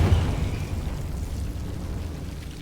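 A Confringo blasting spell detonates in Hogwarts Legacy with a heavy, low boom at the start that decays into a rumbling roar over a couple of seconds.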